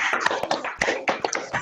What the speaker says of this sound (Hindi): तो एक बार जोरदार तालियां हो जाए हमारी लीडिंग टीम के लिए